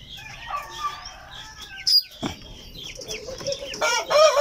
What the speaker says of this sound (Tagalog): So puntahan na natin mga kabakyard ang aking mga sisiw dito.